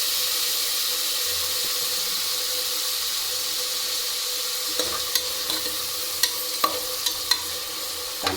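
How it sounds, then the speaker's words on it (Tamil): Small onions and tomatoes sautéing in a pan for mutton kulambu in a home kitchen, giving a steady soft sizzle with a few sharp stirring clicks and scrapes in the second half, close and without talk. "சின்ன வெங்காயமும் தக்காளி ரெண்டையும் போட்டு நல்லா வதக்கிக்கலாம்"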